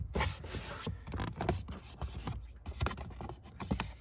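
Cloth rubs and scrapes over a cabin air filter housing on an L5P Duramax truck, a quick, uneven series of close, scratchy wiping strokes with no talking.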